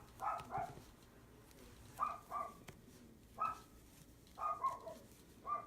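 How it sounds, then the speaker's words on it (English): A dog barks in repeated short bursts, in groups of one or two, from the background of a quiet room. The dog is unwell and needs medication. "the dog is barking in the background"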